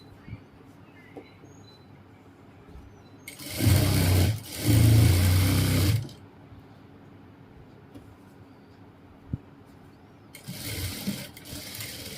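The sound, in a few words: sewing machine stitching trousers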